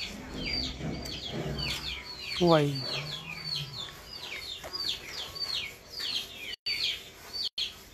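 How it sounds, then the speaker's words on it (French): Chickens cluck and chirp repeatedly in the background while someone speaks briefly in French over them; a rooster-like call rises midway, fairly close. "Il y a mes poules et mes canards ici là"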